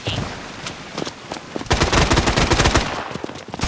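Rapid bursts of automatic gunfire crackle in the Bloodstrike battle-royale game, sparse at first, then a dense, loud stretch of repeated shots before tapering off.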